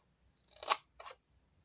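Scissors cutting paper card for a handmade Christmas market box, two short crisp snips close up, the second quieter, with no talking.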